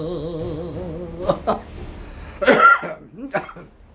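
A few sharp coughs burst out in quick succession after a stretch of melodic singing or humming, close and fairly loud.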